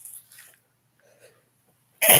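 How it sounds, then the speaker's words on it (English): A single sharp, loud sneeze bursts out at the end after a few quiet breaths and faint rustles. "excuse me while I sneeze."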